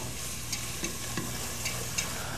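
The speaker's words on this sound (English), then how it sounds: "I'm gonna go ahead and add my vegetables to start letting those cook down." Vegetables and onion frying in a hot pan give a steady low sizzle, broken every half second or so by soft scrapes of a utensil stirring them.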